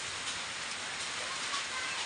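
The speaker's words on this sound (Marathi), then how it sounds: "आता आत्ताच एक पाऊस सुरू झाला" Steady heavy rain falls continuously in Bhum taluka, Dharashiv district, Maharashtra, a dense broadband hiss with no break and no voices.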